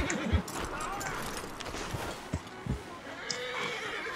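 Horses whinnying in deep snow in a video game, brief neighs and hoof thuds over a dense, steady game soundscape, with a voice talking throughout.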